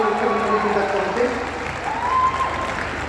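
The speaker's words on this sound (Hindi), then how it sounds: "जोरदार तालियों की जरूरत है माननीय मुख्यमंत्री जी तक पहुंचे" Audience applause at a political rally in Satna, steady clapping from a crowd held under a loud announcer's voice and public-address tones throughout.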